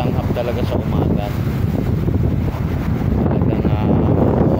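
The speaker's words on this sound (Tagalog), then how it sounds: "Ang lakas ng hangin." Strong wind at Manila Bay buffets the microphone in a continuous loud roar, with a voice speaking beneath the gusts.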